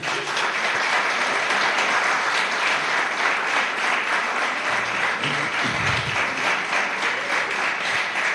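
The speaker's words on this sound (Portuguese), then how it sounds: "Quem pode aplaudir o Espírito Santo?" A congregation bursts into sustained applause at a religious gathering, loud and continuous clapping from a large crowd with no break throughout, with a brief low rumble partway through.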